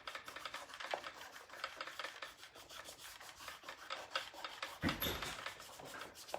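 Lettering that did not adhere well is being rubbed off a piece: quiet, rapid, scratchy rubbing strokes repeat steadily and close by, with one slightly louder scuff near the end.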